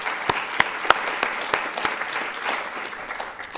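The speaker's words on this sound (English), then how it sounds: "Can we give them another round of applause?" Audience at an MLK celebration event applauding, with scattered, distinct hand claps ringing out over a softer bed of clapping that tapers slightly toward the end.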